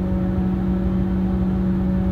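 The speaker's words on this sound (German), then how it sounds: "Jetzt hört man auch wieder Turbolader, wie alles aufbaut." A Mercedes-Benz Actros 1855 truck engine hums steadily with a constant low drone and faint turbocharger whine as boost builds, running evenly without clear revving.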